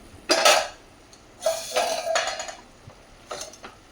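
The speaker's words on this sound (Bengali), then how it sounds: "আর আমি এইদিকে বাঁধাকপি সবজিটা রান্না করছি" Cabbage curry is stirred in a large iron wok, producing three or four separate bursts of close scraping and clanking of the spatula against the metal, with quiet pauses between them.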